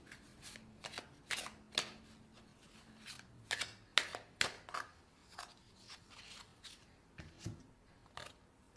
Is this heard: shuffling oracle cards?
yes